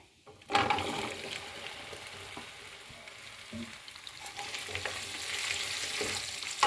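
Fresh okra hits hot oil seasoned with asafoetida in a pan for besan bhindi, bursting into a loud, steady sizzle that keeps crackling with a few stirring scrapes and no talk.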